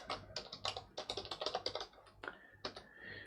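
Quick, irregular keystrokes on a computer keyboard as a username is entered during an Ubuntu Server 18.04 LTS install, close and clear, with short pauses between bursts and no talking.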